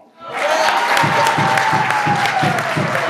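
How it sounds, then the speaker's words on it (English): A church congregation applauds Easter program participants with sustained, dense clapping that swells quickly and stays loud throughout. "Can we all stand and give this group a hand and give all of our Easter program participants a hand clap?"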